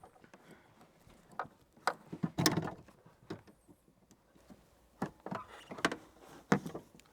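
Faint plastic clicks and scraping come from a Volvo lamp holder as it is pressed down on its latch and pulled straight out, in a quiet setting with a few sharper taps.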